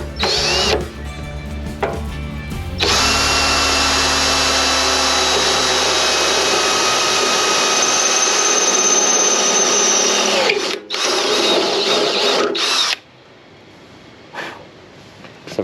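A power drill whines loudly and steadily for about ten seconds, with short bursts before and after, up close and without talking.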